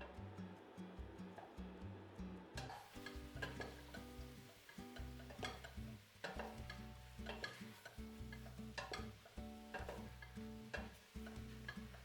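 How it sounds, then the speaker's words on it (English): Fresh mushrooms sautéing in melted butter over medium-high heat, with a steady soft sizzle under repeated rhythmic scraping and stirring of the pan. "I add the fresh mushrooms, sauteing them with occasional stirring."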